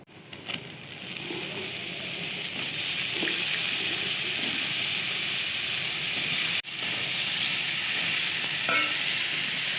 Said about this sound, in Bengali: করলাটা আমি এখন একটু ভেজে নিব।